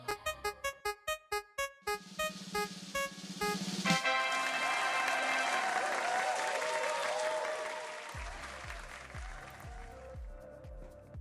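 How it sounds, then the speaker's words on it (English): A crowd breaks into a sustained round of applause, dense clapping swelling and holding for several seconds before thinning out, preceded by a short musical sting. "Round of applause."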